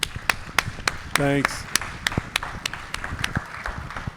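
Sparse, scattered clapping from a small audience after a history talk at a library. The claps are distinct, sharp and irregular, and a voice briefly speaks over them.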